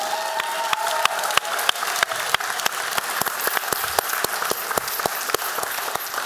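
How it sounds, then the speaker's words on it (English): A large audience claps steadily at an academic session on revolution, the dense applause sustained throughout with sharp individual claps standing out near the listener. "I do want you to give another round of applause for Elizabeth Hinton"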